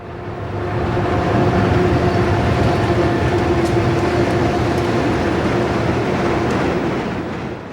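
A Green Bay & Western Railroad train rolls past in a loud, sustained rumble that swells in and holds steady, with faint squeals and clatter riding over the roar.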